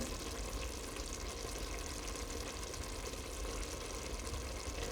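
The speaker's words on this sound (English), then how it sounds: "Like a bubbling jacuzzi. You can hear what it's doing." Celeriac and lentil stew bubbling steadily in a pan, a continuous close sizzling and popping simmer with no talk.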